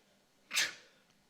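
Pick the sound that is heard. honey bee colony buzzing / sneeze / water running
sneeze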